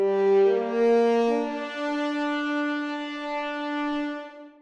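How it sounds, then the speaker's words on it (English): Horns hold a long cuivre note, brassy and edgy with a rasping bite, stepping between pitches early on before sustaining steadily and tapering off at the end. "Now you can hear it's slightly edgier."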